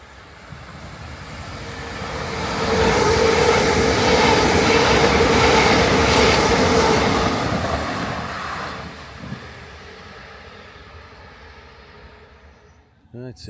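High-speed train racing past a level crossing in England, a loud roaring rush that swells over several seconds with heavy wind buffeting the microphone, then fades away quickly.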